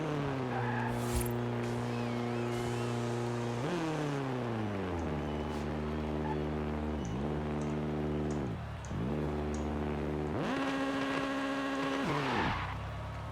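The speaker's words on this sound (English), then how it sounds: "push in the clutch, rev it up, let the e-brake. Now I'm just gonna let the clutch out." A Honda or Acura drag build in Forza Horizon revs hard through rising and falling engine pitches, with tire squeal during a failed burnout attempt; loud, close and continuous, with no talk.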